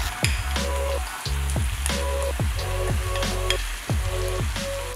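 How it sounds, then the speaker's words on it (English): Baby octopus, tteokbokki rice cakes and cabbage stir-fried in sauce in a hot pan, with a steady loud sizzle broken by regular scraping strokes of the spatula about every half second. "Stir fry everything together about 3 to 4 minutes or until jjukkumi is fully cooked"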